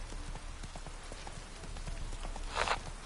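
Horse hooves clip-clop in The Witcher 3: Wild Hunt, Hearts of Stone, a steady run of light, even hoofbeats at moderate distance with a brief brighter burst near the end.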